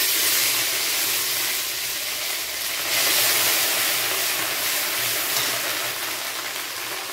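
Spice pastes of poppy seed, onion, ginger, cumin, chilli and garlic hit hot oil, producing a loud, continuous sizzling hiss that swells briefly midway and then settles.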